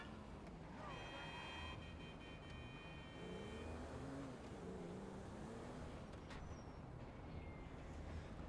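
Car engine in the video game GTA V, a steady motor drone heard throughout at moderate level, with a faint whine and brief tonal beeps, and a voice talking over it.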